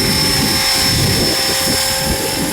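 Rotor blades of a Blade 330S radio-controlled helicopter spin at a steady hover, producing a loud, constant whirring whine with a faint chop underneath, close by and uninterrupted.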